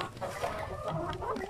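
A purebred Basilan hen clucks in short, close bursts, the calls rising and falling over a steady bed of farmyard noise.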